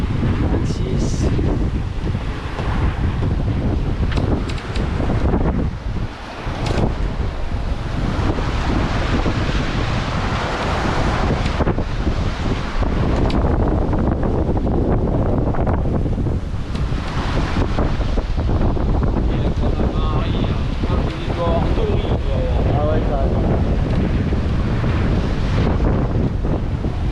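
Strong wind of about 25 knots buffets a sailing boat at sea on a rough crossing from Elba past Corsica, a loud continuous roar mixed with surf and water rushing against the hull.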